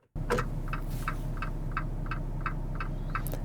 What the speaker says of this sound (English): The most annoying sound that anybody could use is the turn signal for this cluster.